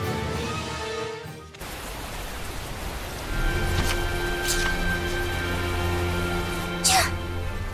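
Rain pours steadily in the Tales of Zestiria video game, a constant hiss running under the whole stretch while characters speak lines of dialogue over it.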